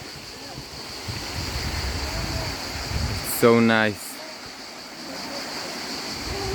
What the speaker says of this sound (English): it's the biggest waterfall I saw so far on this island